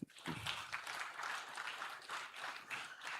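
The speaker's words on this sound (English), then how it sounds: "a round of applause for yourself" An audience at a live-streamed gathering applauds, a dense burst of clapping filling the room, fairly quiet and continuous for a few seconds.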